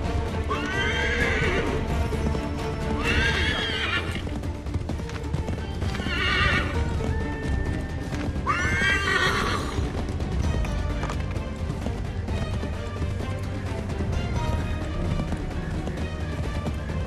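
Horse in the Assassin's Creed 3 video game repeatedly neighs and whinnies in loud bursts over steady galloping clip-clop hoofbeats, set against a dense, continuous game soundtrack and effects bed.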